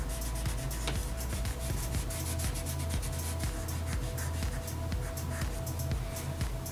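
Steady soft rubbing of a 2B pencil smudging shading on paper, continuous scratchy friction with small rhythmic strokes over a low background hum, close and fairly quiet.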